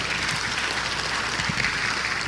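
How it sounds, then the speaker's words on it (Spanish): A church congregation applauding during a sermon, dense steady clapping from many people filling the room for a couple of seconds. "Aplauda a nuestro Señor Jesucristo"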